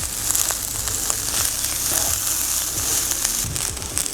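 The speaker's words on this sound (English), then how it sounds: "So you can hear this sound, the sizzling sound coming from the pan." Vegetables and leftover chicken sizzle in a pan for egg fried rice, a continuous bright crackling hiss with light popping, steady and close.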